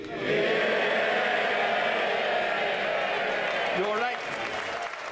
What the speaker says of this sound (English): A standing ovation for the Ukrainian ambassador out of sight of the TV cameras